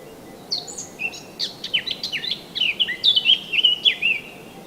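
Birds sing at spring dawn in a mountain forest, a string of bright chirps and whistled phrases that grows busier and louder, with faint background hiss and no voices.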